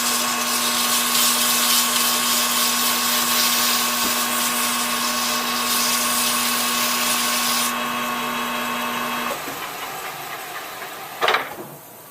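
A cast iron handwheel is smoothed with sandpaper, a steady broadband rasping hiss over a constant machine hum that stops partway, followed by a brief sharp scrape near the end.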